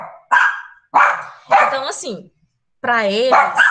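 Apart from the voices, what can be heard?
dogs barking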